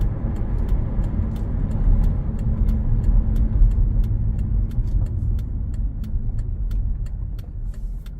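A 2012 Mercedes-Benz SL 550 rolls along with a steady, close engine and road rumble, a low continuous drone while turning, with faint regular ticking above it and no talk.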